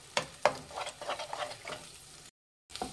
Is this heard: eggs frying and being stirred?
yes